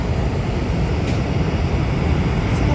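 Presidential jets of the U.S. and South Korea arrive at Rio's Galeão International Airport for the G20 summit, their engines producing a continuous broad roar that stays loud and steady throughout.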